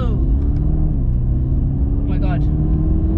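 A Mercedes-AMG GT Black Series with a 730 bhp engine pulls away, its deep, loud exhaust rumble holding close and steady as the engine builds.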